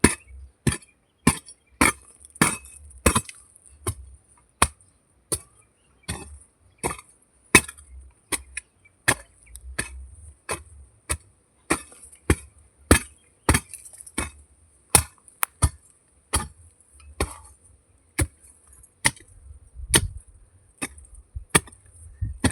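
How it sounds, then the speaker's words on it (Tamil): A spade hoe digging and loosening garden soil for sowing greens: steady, regularly spaced chopping strikes, around thirty sharp thuds with crisp impacts, close and loud with no talk. "நான் இந்த மண்வெட்டி வச்சு கொத்திக்கிறேன்"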